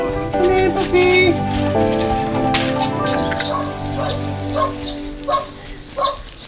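Puppies yip and bark in short bursts at a rural home, with a person talking over them and light patter in the background.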